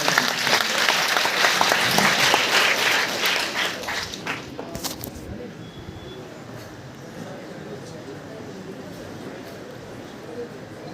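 Audience applause at a book release event fills the first five seconds, dense and loud, then fades into quieter room noise with scattered claps.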